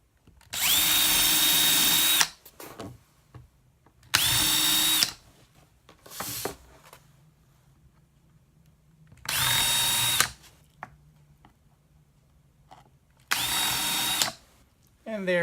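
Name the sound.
power drill drilling small pilot holes in wood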